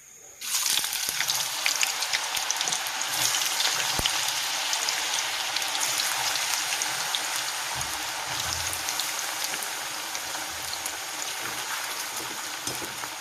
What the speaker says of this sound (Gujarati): હવે આપણે એને તેલમાં તળવા માટે નાખી દઈએ